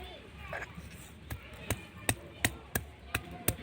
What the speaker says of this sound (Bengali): আদাটা নিয়েছি বেটে নেব